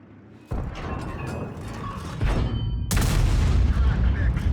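Deep booming tank cannon fire in World of Tanks, Carnarvon tank: one heavy shot followed by another louder blast, with rumbling battle noise and game sounds underneath and talking over it.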